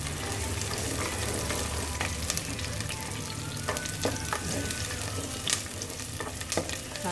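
Curry leaves and green chillies sizzling in hot oil in a pan, a dense, steady crackle and hiss with sharper pops and occasional stirring scrapes, close and continuous with no talking.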